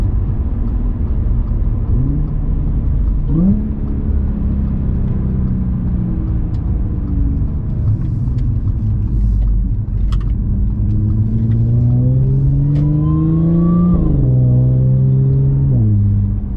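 An Audi S4 with an AWE Tuning Touring exhaust revs through several downshifts, its engine note rising and falling in distinct blips over a low rumble, heard close with no talk.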